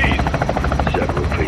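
A helicopter in the Call of Duty Modern Warfare 2 (2022) video game thumps with a steady, rapid rotor beat at close range, mixed with game audio.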